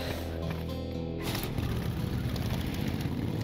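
A motorcycle engine in the game Ashes 2063 drones steadily at close range, a low continuous hum with a brief shift in tone partway through.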